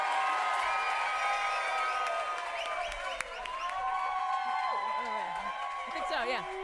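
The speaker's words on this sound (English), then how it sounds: "So let's give exactly that much huge applause for our first amazing storyteller" Audience applause and cheering greet the first storyteller, Rosie, at a live storytelling show, with whoops and a voice rising over the clapping crowd throughout.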